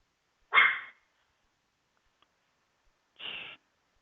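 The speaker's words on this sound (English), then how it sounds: "Little dog has a barking problem." A small dog gives two short, sharp barks, the first louder and the second a bit softer, spaced about two and a half seconds apart against near silence.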